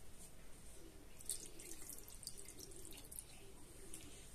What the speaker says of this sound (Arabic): هبتدي بقى ان انا احط مية عادية خالص على ده كله